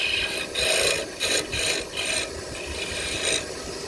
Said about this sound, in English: let's see if the sandpaper will clean that up. I only use 320.